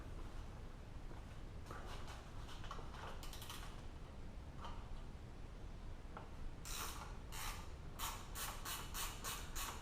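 Husky ratcheting wrench clicking on a Honda 400EX quad during a rebuild, scattered faint clicks early, then a quick run of sharp, close ratchet clicks near the end.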